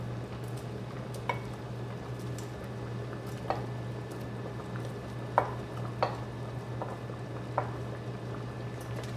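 Cooked turkey stirred back into a pot of Zuppa Toscana soup with kale, giving a few sharp spoon clinks against the pot over a steady low simmering hum.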